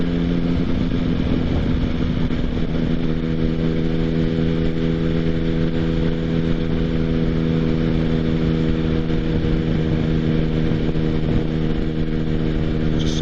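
Motorcycle cruising along a road, its engine a steady, close drone with even harmonic tones and constant wind rush, holding a nearly unchanging pitch throughout with no talking over it.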